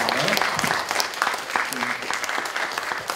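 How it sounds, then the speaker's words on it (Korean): Hearty audience applause closing a university unification forum session, a dense wash of clapping with a few brief voices and shouts mixed in. "다시 한번 큰 박수를 좀 보내주시면"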